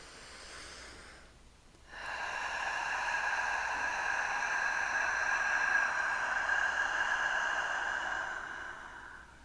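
A slow, deep breath is drawn in a quiet, close ASMR setting after a short pause, forming a long, soft, airy rush that holds for several seconds and then gently fades.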